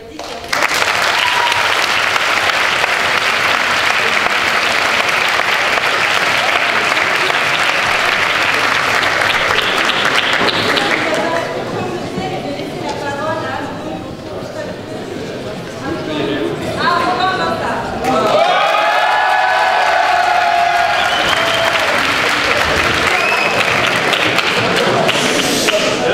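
A large audience at a French university debate contest, Sorbonne versus Descartes, bursts into loud sustained applause and cheering that dips briefly midway, then swells again with whoops and voices mixed in.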